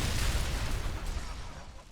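Grenade explosions in the online shooter XSHOT, a dense, booming burst that fills the start and slowly fades over two seconds, loud and close.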